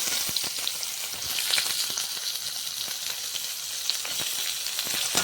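Onions sizzle steadily in a hot pan of oil for a Chettinad cabbage and potato masala, giving a continuous close crackle with scattered sharp pops and no talking.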